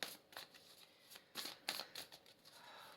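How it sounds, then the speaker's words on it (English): A small deck of answer cards is shuffled by hand, a series of close, crisp riffling bursts with short gaps, quiet and without talk. "So I'm just going to pull some of the answer cards"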